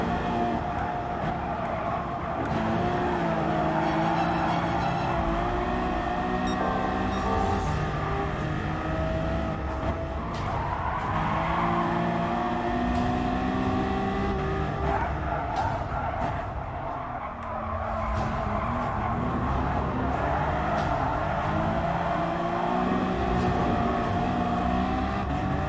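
Aston Martin One-77 from 2011 in a driving game, its engine roaring steadily at high revs with gear shifts and rising and falling pitch over the whole stretch, loud and close with no talking.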